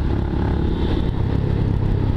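A Yamaha Raider 150 fitted with a modified, loud aftermarket exhaust revs up close by, a deep, bassy and continuous roar with rough clatter throughout.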